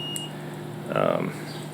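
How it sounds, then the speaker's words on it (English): A multimeter's continuity-check beep, one steady tone of about a third of a second that stands out clearly over a low hum, used while testing a switch that has two separate sets of contacts. "As you can tell by the multimeter there, giving off its continuity check"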